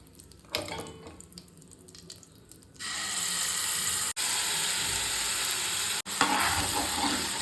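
Ground masala paste hits hot oil in a pan with a sudden loud, steady sizzle after quieter kitchen stirring and clinking, the frying hiss filling the rest with two brief breaks.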